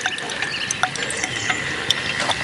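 A container holding lanolin, oil and water is shaken, giving a soft, continuous liquid sloshing with a few brief clicks, fairly quiet and close, with no voices.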